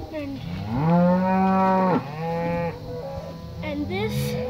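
Cattle low loudly and close by on a farm, with a long drawn-out moo followed by shorter bellows, over faint background noise.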